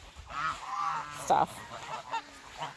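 Farm geese honking nearby in a few short nasal calls, with one louder sharp honk midway, under brief talk from a man.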